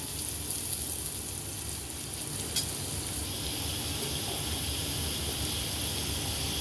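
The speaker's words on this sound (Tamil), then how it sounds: "இப்போது பொட்டேட்டோ இந்த அளவுக்கு ஃப்ரை ஆனதுக்கப்புறம்" Potatoes and chopped fenugreek leaves fry in a pan with a steady, close sizzle and faint stirring scrapes, broad hiss holding even throughout with no voices.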